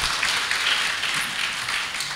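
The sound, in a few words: audience applause for the Ustaz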